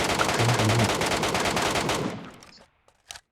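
Rapid automatic gunfire in the video game Metro Royale, a loud continuous burst of shots for about two seconds that cuts off, followed by a couple of faint clicks.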